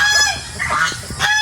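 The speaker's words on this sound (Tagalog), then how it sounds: "Ito yung halo-halo nating gansa. Gansa, pabo, manok." Geese honking amid mixed poultry of geese, turkeys and chickens on a farm, a few close, loud nasal honks in quick succession with other birds faintly behind.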